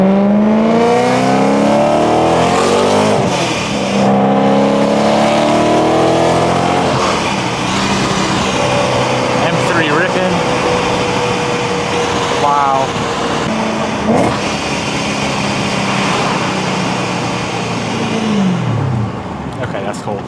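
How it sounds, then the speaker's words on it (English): A Mitsubishi Lancer Evo 8 engine revs up and settles in a loud, close series of rising and falling pulls, with people talking over it and a steady whirring hum underneath. "I just wanted you guys to hear how cool this car sounds."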